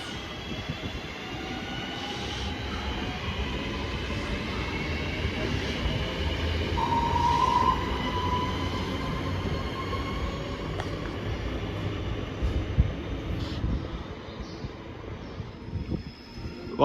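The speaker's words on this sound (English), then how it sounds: "passing through now for Avanti West Coast is going to be a diverted service from Preston to Milton Keynes Central" An Avanti West Coast diverted service from Preston to Milton Keynes Central runs through a station, giving a steady, fairly loud rumble and roar of passing rail traffic that swells slightly mid-pass and holds throughout, with a brief high squeal partway through.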